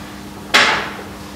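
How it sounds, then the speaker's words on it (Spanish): A single sharp hammer strike, loud and close, ringing briefly before decaying into quiet. "Martillo."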